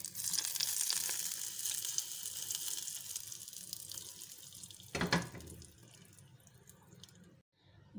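Hot tarka is poured over brinjal dahi bara, giving a soft, steady sizzle and crackle that swells briefly near the end before fading to quiet.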